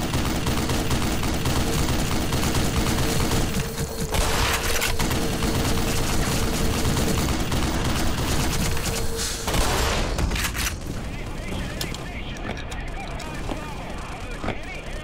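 Dense military gunfire from the video game Black Mesa: Xen, a relentless loud fusillade of rapid machine-gun bursts and shots layered with booms, with a voice speaking over the din.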